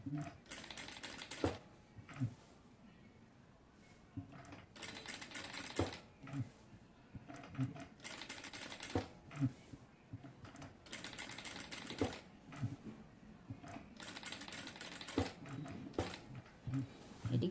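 A sewing machine stitches the neckline of a dress in short rattling bursts of a few seconds each, separated by pauses with quiet handling of fabric, fairly faint and close.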